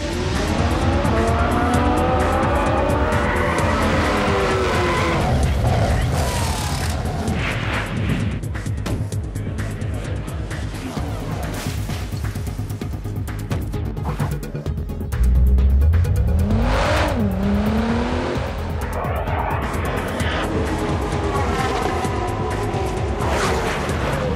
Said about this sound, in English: Least of all, Nissan's incredible concept car,